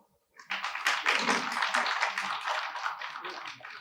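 An audience made up largely of women claps together at a film event, a dense, steady burst of applause that starts suddenly, stays fairly loud and then slowly fades.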